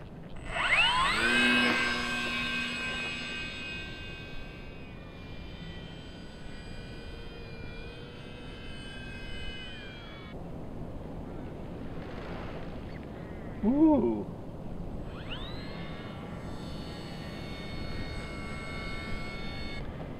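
Radio-controlled model plane flown out front with its motor running, a whining buzz that rises and falls in pitch as it swoops past, near at first then fading and returning, with brief voice and wind noise.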